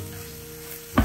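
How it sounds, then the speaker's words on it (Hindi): Green chillies frying with garlic ginger paste on a tawa, a quiet oily sizzle with a faint tone, ending in a sudden loud stir or clatter. "दो 1 टीस्पून लहसुन अदरक का पेस्ट है, उसको भी इसके साथ डाल के उसको भी भून लेते हैं।"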